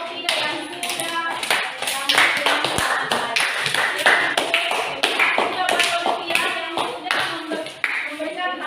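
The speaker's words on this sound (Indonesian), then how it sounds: "Berikan aplaus buat kelompok 3 yang sudah" Applause from a classroom group, a dense burst of many hands clapping close by, steady and loud for several seconds with voices mixed in.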